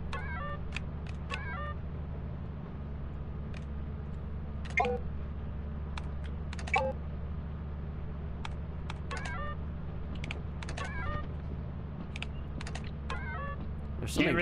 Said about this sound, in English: Can't really sneak around because I can hear your keyboard